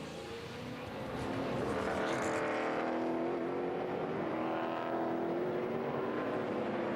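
Race car pulling away from a pit stop after four tires and fuel at the 2014 Gardner Denver 200, a loud rising engine roar building over a steady background of other cars on track.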